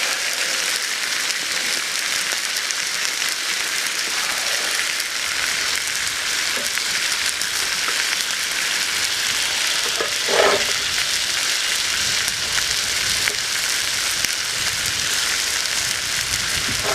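Garlic frying in a pan on an Anevay Frontier wood-burning stove, a steady close crackling sizzle that carries on unbroken with a few faint clinks of utensils.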